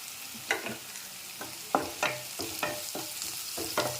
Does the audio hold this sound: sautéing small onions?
yes